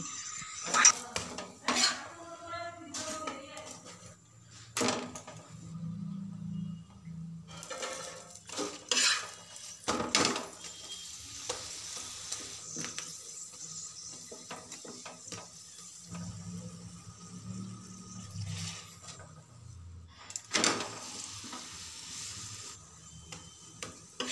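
Cauliflower paratha being made in a kitchen, with scattered clinks and knocks of pan and utensils, some scraping and stirring, and brief running water, fairly quiet and irregular.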